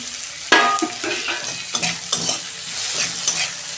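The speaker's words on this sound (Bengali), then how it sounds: "টমেটো আর পেঁয়াজটা ভাজা হয়ে যাবে, নরম হয়ে যাবে।" Tomato and onion fry in a pan for an okra dish and are stirred, a steady close sizzle broken by scraping stirs that start sharply about half a second in and recur every second or so, with no voices.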